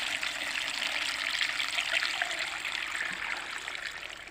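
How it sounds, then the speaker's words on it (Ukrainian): Steady water pouring and splashing up close while making pickled tomatoes, a continuous rushing trickle with no break, no voices over it. "Так, і виливаємо прямо сюди. Дивіться, лиємо акуратненько."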